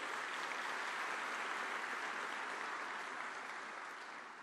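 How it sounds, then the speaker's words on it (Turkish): Applause fills a party hall as a crowd claps steadily and densely, sustained throughout and tapering slightly at the end, with no talk over it. "bu salondan kocaman bir alkış gönderiyoruz"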